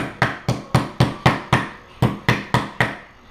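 Schnitzel meat pounded with a meat hammer, eleven evenly spaced sharp thuds in a steady rhythm, close and loud with no talking.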